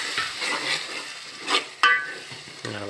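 Buttermilk poured into a simmering brinjal gravy sizzles and bubbles in the pan, with a few clinks of a spoon against the pot, close and moderately loud, ending in a brief tonal hum.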